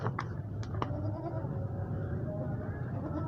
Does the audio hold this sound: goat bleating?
yes